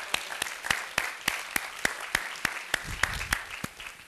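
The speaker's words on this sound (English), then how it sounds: "Let's give her a big round of applause." An audience claps in a room after a staff member is introduced, with sharp, fairly regular claps ringing out steadily and moderately loud, and no voices over them.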